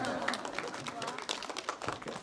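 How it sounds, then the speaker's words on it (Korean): Applause from a lecture audience at a children's art club philosophy talk, a brief burst of dense, steady clapping close by with some voices mixed in. "우리 박수 한번 주세요."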